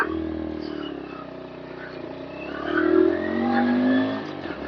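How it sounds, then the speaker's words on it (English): A Bluroc X-Bongo 125 motorcycle with a full stainless steel exhaust drones steadily with a deep, throaty note that swells louder as it revs, close by and continuous. "Got a lovely exhaust note on this bike. Full stainless steel system."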